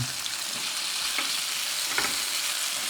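Chunks of kabocha squash and garlic fry in hot oil while being stirred, a steady close sizzle broken by a couple of soft scraping stirs, with no talk.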